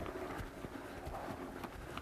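Hooves of a ridden horse moving sideways on a circle during a schooling session, a steady, soft clip-clop rhythm close by over low background noise.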